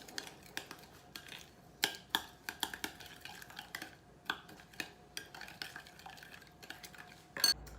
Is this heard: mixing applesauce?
yes